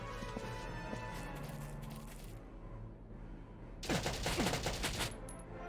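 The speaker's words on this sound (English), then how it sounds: "Oh, he's gonna shoot at Hector." Gunfire in the tactical war game Valkyria Chronicles Remastered, a loud burst of rapid shots rising over continuous game background sound near the end.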